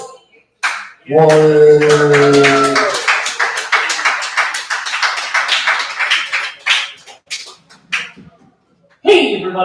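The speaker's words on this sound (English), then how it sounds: "Clapping up for the comedy stylings of Chris." Open mic comedy night crowd in a bar clapping for a comedian, a brief loud tone at the start, then scattered uneven claps and taps thinning out, with a voice speaking over it near the end.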